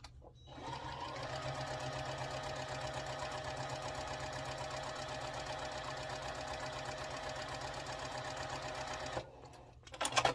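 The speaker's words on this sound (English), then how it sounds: "I'm just going to sew right off and then turn it and come along this other line" A sewing machine runs a continuous quilt-block seam at a steady, fast rhythmic chatter, moderately quiet and close, starting after a brief pause and stopping near the end with a few small handling clicks.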